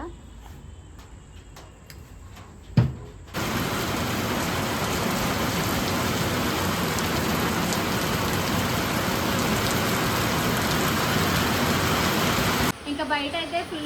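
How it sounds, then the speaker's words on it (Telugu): Heavy rain pours down in a dense, steady roar that starts abruptly after a few quieter seconds of insect chirping, then cuts off near the end. "ఫుల్గా వర్షం వచ్చేస్తుంది"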